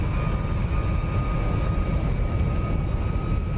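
F-22 jet engine at full afterburner in the DCS flight game, a loud continuous roar with a steady whine layered on top, unbroken and close, with no voices.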